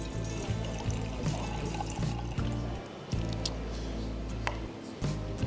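Coffee poured slowly and carefully from a bent paper cup spout at an airport, a soft steady trickle running under a continuous low hum of the surrounding space.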